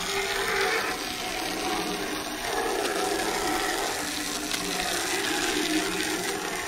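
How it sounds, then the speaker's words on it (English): Water from a hose sprays steadily over a Saab 9-3 Viggen being washed, a continuous close hiss with slight shifts in intensity as the stream moves. "Hose it off and tape it up."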